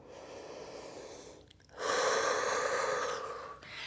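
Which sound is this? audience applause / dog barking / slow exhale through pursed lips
slow exhale through pursed lips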